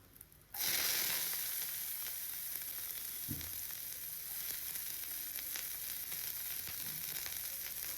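Onions frying in hot oil for homemade noodles, a loud steady sizzle that bursts in abruptly and crackles on continuously with faint stirring clinks, no talking.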